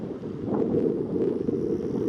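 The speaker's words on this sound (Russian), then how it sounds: "Ветер привычно гуляет по долине, играет с листвой деревьев и причесывает желтеющую траву." Wind sweeps across the open Barguzin valley in Buryatia, a steady rushing bluster buffeting the microphone, moderately loud and continuous with no voices.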